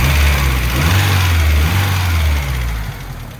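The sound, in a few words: 1992 Honda Civic hatchback engine whining at idle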